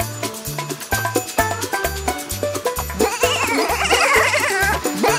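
Sheep bleat over a bouncy, rhythmic musical backing, with repeated bleats that grow busier toward the end.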